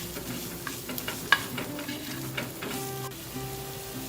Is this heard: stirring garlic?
yes